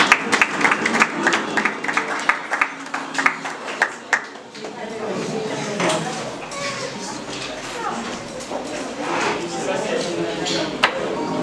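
Audience applause at the grand final of a French speaking contest, a crowd clapping in a hall: scattered sharp claps under voices at first, then a steadier, fuller patter of applause.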